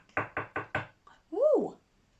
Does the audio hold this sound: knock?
yes